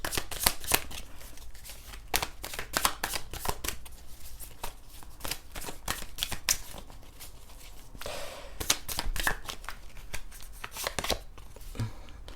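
Tarot cards shuffled by hand for a reading, a close sequence of crisp riffling snaps and soft flicks in an irregular rhythm, with no talking.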